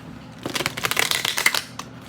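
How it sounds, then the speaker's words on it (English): A deck of cards is shuffled by hand in a quiet room, a quick riffling burst of papery flicks lasting about a second and a half, close and moderately loud with no talk. "Alright, one more shuffle."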